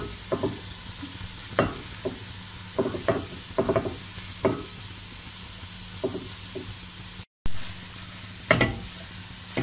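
Onion and mixed vegetables fry in a pan under a constant low sizzle. Sharp utensil knocks and stirring clacks come in irregular bursts, and the sound drops out briefly near the end.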